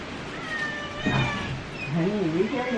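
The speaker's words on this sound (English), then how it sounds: "Y'all hear my cat in the background going crazy." A cat meows and caterwauls repeatedly indoors, drawn-out wavering cries at moderate distance, mixed with a person's voice and faint room noise.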